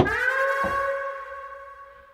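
A single synthesizer patch called Cats sounds once, a tone with a meowing, nasal, cat-like quality, then fades out slowly over about two seconds.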